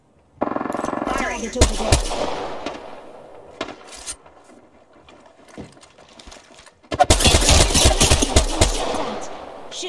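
Gunfire in an Apex Legends ranked match: loud, close rapid automatic bursts, easing into a quieter stretch before a dense, heavy volley breaks out near the end.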